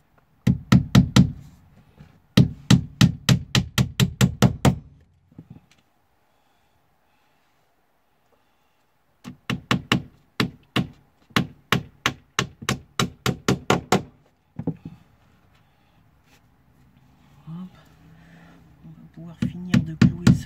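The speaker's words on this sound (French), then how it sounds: "Pouvoir finir de clouer cela du coup" Nails hammered into a cargo storage box: rapid, sharp hammer blows in three bursts of about a dozen strikes each, close by, with quiet pauses between the bursts.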